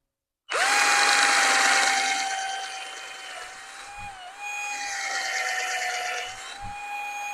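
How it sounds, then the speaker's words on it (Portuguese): A power drill starts up and whines steadily for several seconds, its pitch dipping briefly as it bites into the material while drilling a small hole, with faint knocks underneath. "vocês pegam uma furadeira"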